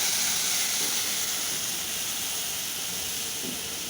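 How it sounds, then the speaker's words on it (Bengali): Spice paste, nigella seeds and three green chillies sizzle in hot oil while mustard hilsa is cooked, giving a steady, even hiss throughout with no voices. "এবং ওই তেলে দেব কালো জিরে, 3টে কাঁচা লঙ্কা এবং ওই যে পেস্টটি হয়েছিল সেই পেস্টটি এবার দিয়ে দিলাম।"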